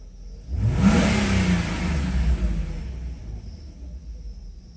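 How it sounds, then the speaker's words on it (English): A Mercedes S420 V8 engine revs up from idle under throttle, swelling into a close, steady rumbling whir that holds for a few seconds and then eases slightly. "That was a little more acceleration."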